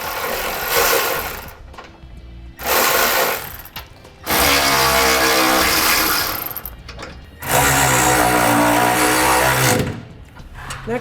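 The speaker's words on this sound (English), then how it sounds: "So now we're going to come back and tighten up our nuts and bolts." A 9/16 socket wrench ratchets in four long bursts, tightening nuts and bolts for Firestone Ride-Rite air helper springs on a 2016 Ford F-150, loud and close with short pauses between.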